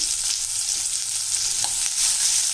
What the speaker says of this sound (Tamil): இப்போ இந்த வெங்காயத்தை நல்லா வதக்கி விட்டுடணும்.